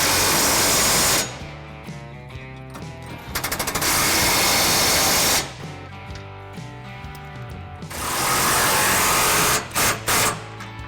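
An impact tool snugs down trailer hitch mounting bolts on a 2014 Chevy Silverado 1500. Loud, close rattling bursts hammer in several runs separated by pauses, with short blips near the end.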